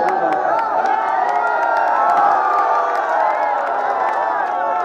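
A live mushaira audience in Jahangirganj roars with continuous cheering, whoops and clapping, a loud, dense crowd wash that holds steady for the whole stretch.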